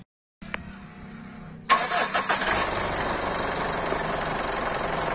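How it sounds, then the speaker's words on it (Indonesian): After a brief silence, a low electrical whir runs, then the diesel engine of a Mitsubishi Pajero Sport Dakar VGT cranks and catches, settling into a loud, steady rumbling idle close by. "ini adalah suara mesin dari Pajero Sport Dakar"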